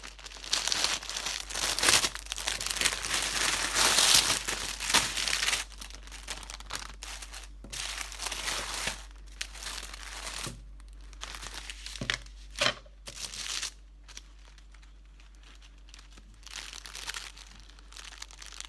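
Plastic packaging for a DIY rug-making craft kit being opened and crinkled by hand, with dense rustling and crackling bursts in the first half that thin out into sparser crinkles and a few sharp snaps later.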